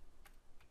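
A computer keyboard typing a website address: two quick, faint keystroke clicks close by, with no voices.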